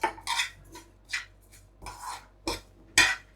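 A utensil clinks and scrapes against a pan while fennel seeds and jaggery are dry roasted, giving close, intermittent metallic strokes with quiet gaps between them.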